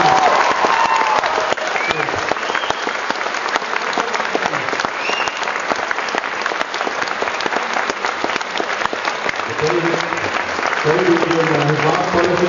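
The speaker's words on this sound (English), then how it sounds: "If I could have a massive round of applause" Sustained loud applause from a convention panel audience at the Armageddon 2008 expo in Auckland, dense clapping filling the whole stretch with a few voices and cheers surfacing near the end.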